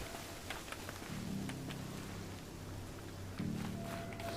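Rain falling in the video game Horizon Zero Dawn, a soft steady patter heard alone, with a low rumble swelling twice in the background.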